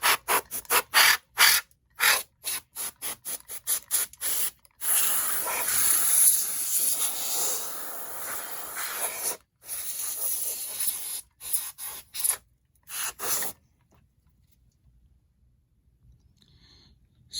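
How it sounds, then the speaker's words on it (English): Bursts of aerosol spray hiss across the top of a Sound Devices CL-16 fader controller during cleaning, in a run of short blasts and then one long sustained spray, more short bursts, and a quiet tail at the end. "we'll spray the top as well"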